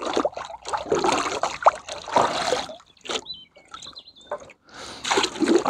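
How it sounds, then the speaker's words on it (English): A glove is rinsed in outdoor water with irregular splashes, swishes and dribbles arriving in short bursts close to the microphone, broken by brief pauses and a few faint bird chirps. "I'll take my glove off and just give that a good rinse in that water"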